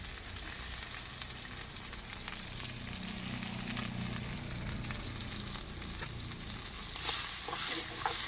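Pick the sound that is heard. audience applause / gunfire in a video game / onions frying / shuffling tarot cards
onions frying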